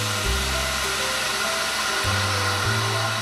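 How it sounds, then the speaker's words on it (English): A vacuum machine degassing a crème anglaise mixture gives off a steady, loud, continuous motor whir with a low pump hum that shifts pitch partway through, with no voices. "degas the mixture. This is something else you do with a vacuum machine"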